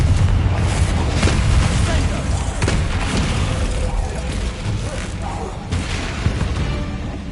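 A Confringo blasting spell goes off in Hogwarts Legacy on PS5, booming explosions and bursts rolling over a steady, heavy rumble, with a voice speaking briefly over the din.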